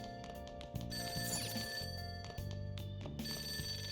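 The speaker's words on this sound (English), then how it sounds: "that ringing sound isn't coming from my cell phone. It's coming from downstairs." A payphone rings downstairs in the video game Persona 5 Royal, a steady repeating telephone bell under in-game background music, fairly faint.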